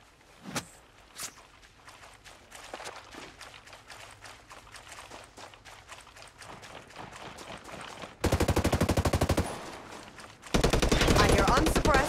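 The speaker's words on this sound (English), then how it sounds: "Enemy fire." Enemy gunfire in the video game Ghost Recon Breakpoint, scattered single shots and game effects at first, then two loud sustained bursts of rapid automatic fire near the end.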